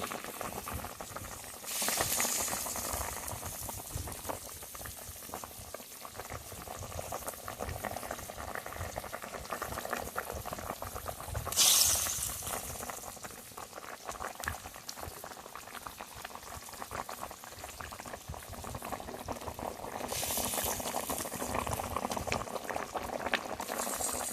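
Broth for a Bengali eggplant curry bubbles at a steady rolling boil in a pot, a close, continuous burbling with a few louder surges.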